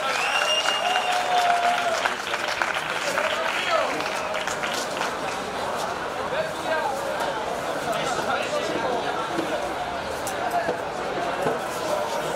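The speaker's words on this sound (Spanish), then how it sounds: "ese aplauso se cierra" Applause fills the hall at a 2019 university tuna music competition awards ceremony in Málaga, many hands clapping at a steady level while voices and crowd chatter carry underneath.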